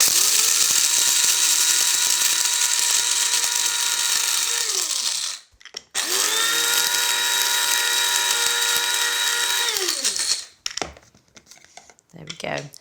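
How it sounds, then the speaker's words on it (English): Electric spice grinder blitzing whole spices into powder for a lamb madras: two loud, steady high-pitched whirring runs of about five seconds each, close by, separated by a brief pause. Each run winds down audibly at its end. "what we want to do is we just want to blitz that to a really nice powder"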